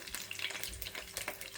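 Chicken nuggets frying in a pan, a soft continuous sizzle with light crackles and brief stirring touches, quiet and close.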